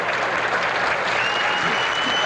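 A capacity crowd at a professional bowling tournament lane breaks into loud, sustained applause and cheering after a strike, a dense continuous roar of clapping filling the hall.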